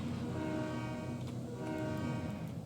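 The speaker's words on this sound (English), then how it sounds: "Wait, is he struggling to get this train moving?" A train in a railway operations video game labours to start moving, a steady heavy droning engine with a sustained tonal hum that holds throughout, loud and close.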